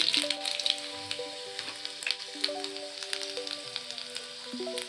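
Cardamom, cloves and whole coriander seeds sizzle in hot oil in a pan for butter paneer masala, a steady close crackle with scattered pops and sharp spits, no talking.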